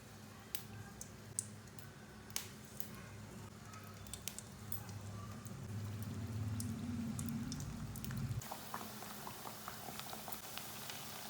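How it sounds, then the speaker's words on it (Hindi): Tikkis (patties) sizzle and bubble steadily in hot frying oil, a dense crackling that swells midway with scattered sharp pops over the close, continuous fry. "ऑयल हमारा गर्म हो चुका है। अब टिक्कियाँ डाल लेंगे इसमें।"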